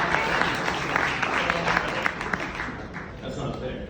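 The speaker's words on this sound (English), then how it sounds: "give her another round of applause." An audience at a stand-up comedy show applauds a singer, with loud, sustained clapping from a crowd close by that tapers gradually, a voice seeming to break in near the end.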